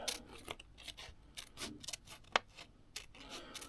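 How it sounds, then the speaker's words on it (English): Scissors snip through a rubber sheet to make an e-bike gasket in a series of short, crisp cuts, close and fairly quiet, with brief pauses between snips. "So if we just cut that out with the scissors"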